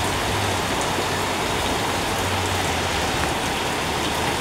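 Steady, dense rain pours onto surfaces nearby, a continuous hiss and patter at even loudness with no voices, during a downpour after very hot weather.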